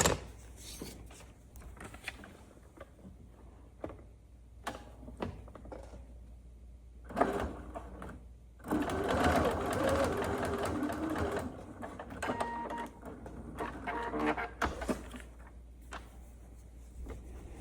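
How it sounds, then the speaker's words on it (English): A sewing machine stitches along a line through fabric and paper for foundation paper piecing, with several short bursts of whirring and one longer steady run in the middle, close and clear, with no speech. "Now we'll stitch right on the line between 5 and 6."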